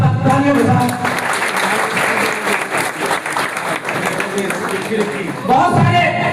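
Audience applause at a youth society event in India, a thick wash of clapping from many people, with a voice speaking over it at the start and again as it winds down.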